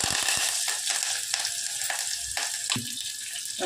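Mustard seeds, cumin, onion and curry leaves sizzle in hot oil for a chicken keema ball curry, a continuous close frying hiss broken by occasional pops and stirring scrapes.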